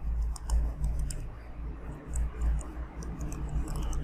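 Typing on a computer keyboard while entering a prompt into an AI chat tool: a steady run of light, close key clicks over low background hum, with no talking.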